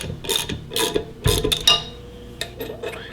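Bolts being tightened on a Thunderbolt blower pulley with a hand ratchet, giving short bursts of clicking pawl sounds and metallic rattles, close and fairly loud with brief pauses between turns.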